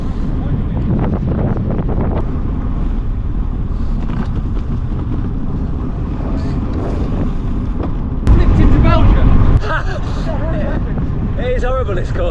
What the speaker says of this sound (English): I'm back into the headwind.